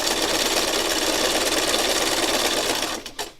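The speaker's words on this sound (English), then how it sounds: "all I'm doing here is just doing some extra stitching" A sewing machine runs continuously to stitch down wide ribbons, a steady close mechanical whir that stops at the end with a few short clicks and thumps.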